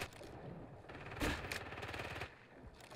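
Gunfire in the video game Call of Duty Warzone crackles in rapid bursts, with one sharper shot standing out among steady automatic fire at moderate loudness and no speech over it.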